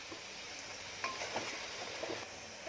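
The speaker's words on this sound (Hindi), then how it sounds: "अब प्याज थोड़ा होना है, उसको होने दो, अच्छे से प्याज को करने का, और इसकी रंगत सुनहरी होने तक करूंगी।" Onions frying in a pan for a Konkani-style home lunch, a low steady sizzle close by, with a few faint scrapes and clinks as they are stirred.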